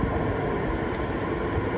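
Heathrow inter-terminal train at the Terminal 2-3 station: a loud, steady low rumble and hum of the rail car throughout, with no voices.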